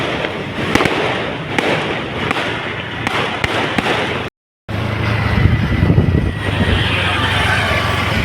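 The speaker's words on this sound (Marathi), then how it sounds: "बारशाचे फटाके" Loud, continuous crackling bursts of firecrackers exploding nearby at a baby-naming ceremony, with sharp pops throughout, a brief silent gap midway, then a low rumbling hum under the crackle.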